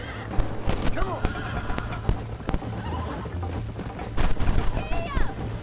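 Horses whinny and gallop with rapid hoofbeats during a race in Red Dead Redemption, loud and close, with shouted voices mixed in over the galloping.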